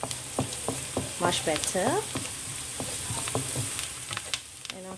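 Turmeric powder sizzles in hot oil as ladyfingers (okra) are stir-fried, giving a steady close frying hiss with scraping stirs, while a voice talks briefly over it.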